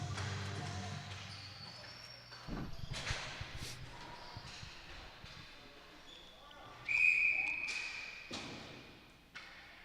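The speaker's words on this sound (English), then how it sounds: "Whistle down there, and" A referee's whistle sounds once in a sharp, steady blast partway through at a women's international ball hockey game between Great Britain and Greece, amid arena crowd noise, ball thuds and commentary.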